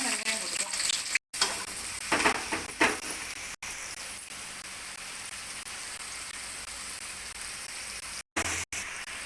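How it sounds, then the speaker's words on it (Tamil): Onions dropped into hot oil for a chicken chapati roll, a bright steady sizzle and crackle with a few stirring bursts early on, close up, with brief pauses. "எண்ணெய் சூடானாலும் வெங்காயம் போட்டுக்கலாம்."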